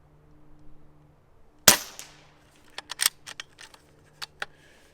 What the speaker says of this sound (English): then shoot at the lower right target